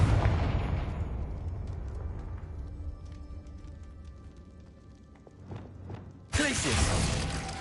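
A Confringo blasting spell goes off in Hogwarts Legacy, a burst that fades into a low rumble, followed by a few sharp cracks and then a sudden loud roaring blast near the end.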